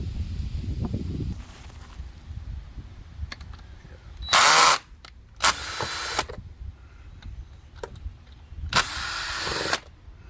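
A power driver with a T30 bit backs out the engine cover screws on a 2015 Chevy Malibu, giving three loud whirring bursts between quieter handling noises close by.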